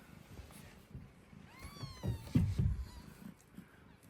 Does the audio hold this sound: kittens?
yes